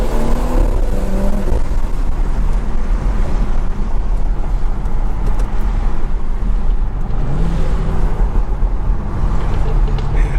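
A BMW car pulls away and drives off on a college campus, a steady loud engine rumble with road and wind noise throughout and a brief rising rev tone partway through.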